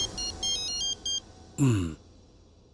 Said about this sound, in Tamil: ரிங் போச்சு, ஆனா பாதியிலேயே கட் ஆயிடுச்சு